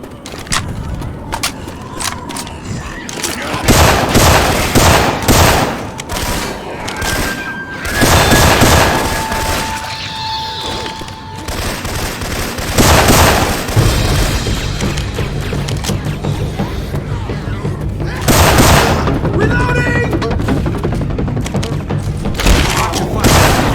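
Left 4 Dead 2 gameplay with Syphon Filter weapon sounds brings loud bursts of gunfire, booms and rapid shot volleys across the whole stretch, with mechanical clicks and in-game voices mixed in.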